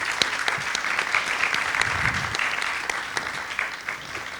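An audience claps steadily at a panel discussion on Black cinema, a dense continuous patter of many hands at moderate loudness without any speech.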